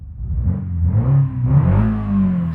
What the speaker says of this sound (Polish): modyfikacja dodaje zremasterowane dźwięki silnika